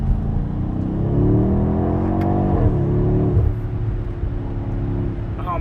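A 2021 BMW X6M Competition accelerates hard through its 8-speed ZF automatic. The engine roar climbs in pitch and drops at each quick gear shift, loud and steady from inside the cabin.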